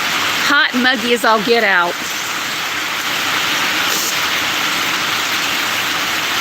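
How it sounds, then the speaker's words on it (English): Heavy rain from Tropical Storm Idalia pours down in a steady, loud broadband roar that fills the whole stretch, with a person briefly talking over it at the start before the downpour continues alone. "It's just really raining right now"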